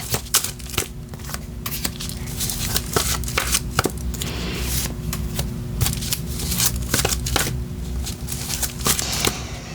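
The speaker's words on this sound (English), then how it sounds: "One more shuffle, they say, to clear up the energy." Tarot cards shuffled by hand in repeated soft riffling bursts and flicks, close and fairly quiet, with no talking.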